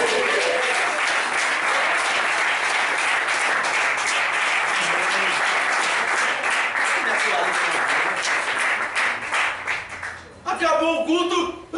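A church congregation breaks into loud, dense, sustained applause during a worship service, holding steady for several seconds before tapering off as a voice comes in near the end.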